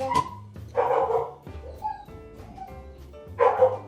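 A dog barks and yips in short bursts, with gaps between them and a whimpering edge to some calls, heard nearby from inside a home kitchen.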